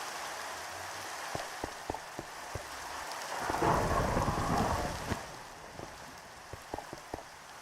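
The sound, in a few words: rain and thunder in the video game Minecraft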